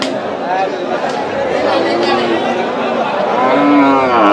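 Livestock at a Panchagarh cattle market, where thin, bony cows are bought and sold: a few drawn-out moos rise over a constant murmur of crowd chatter and people talking nearby.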